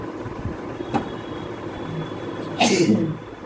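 A single sharp sneeze bursts out close and loud near the end, breaking through a low background hum with faint indistinct sounds before it.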